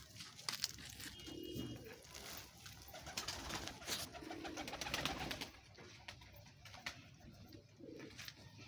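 Domestic pigeons cooing in repeated soft throaty bursts against an outdoor background, with several calls overlapping at moderate distance and fluttering noise between them.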